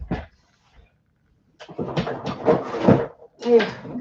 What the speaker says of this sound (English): now my drawer done got stuck.